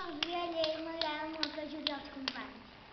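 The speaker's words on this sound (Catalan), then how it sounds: "un aplaudiment per en Gil" A classroom of children claps for a classmate named Gil, about six rhythmic claps in unison, soft and evenly spaced, under a voice talking.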